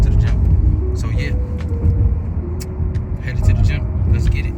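Interior of a car driving to the gym, with a steady engine and road rumble running throughout while someone talks over it.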